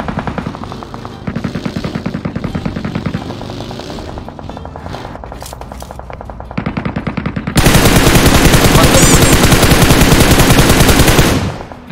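PUBG Mobile gunfire rattles in fast automatic bursts, with a sharp, loud stretch of sustained shooting near the end.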